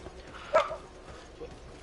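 A dog gives a single short bark in the middle of an otherwise quiet room, fairly faint and not repeated.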